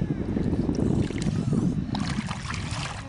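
Gusty wind blows outdoors near water, a loud, rough rush buffeting the microphone, steady and close, with some faint watery splashing under it.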